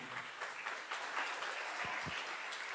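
A church congregation applauds together in a steady, dense wash of clapping that fills the room at moderate loudness, with a low voice briefly audible beneath it.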